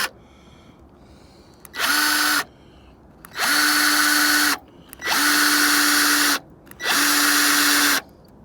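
Cordless drill driving screws, four sustained whirring bursts of about a second to a second and a half each with short pauses between, loud and close.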